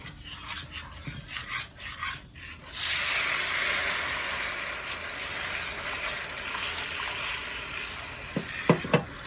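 Twelve ounces of evaporated milk pour into a pan for German chocolate frosting, a sudden broad hissing gush that starts partway through and carries on steadily, with a few soft knocks near the end.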